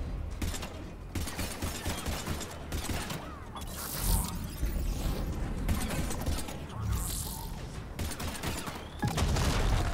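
Gunfire in Mass Effect 3 Legendary Edition during a From Ashes battle wave: repeated rapid volleys and bursts crack in clusters, loud and close, with short quieter gaps between them and mechanical clatter mixed in.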